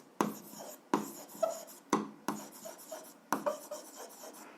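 Pen or pencil writing out a 7th-grade algebra exercise on paper: short bursts of scratchy strokes in quick succession, close and fairly quiet, with brief pauses between groups of strokes and no talking.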